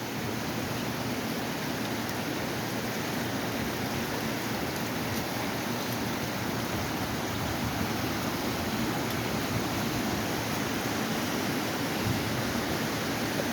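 Water gushes from a broken water main on a city street in a steady, dense hiss and roar, with no pauses and no voices.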